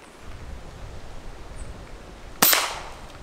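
A single sharp pellet gun shot fired at an iguana outdoors in Puerto Rico, one loud crack over quiet rustling ambient background.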